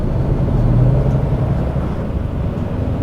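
Volvo FH 540 Euro 6 truck cruising on a flat city road in eco mode, a steady low engine drone with road rumble heard from inside the cab, no talk.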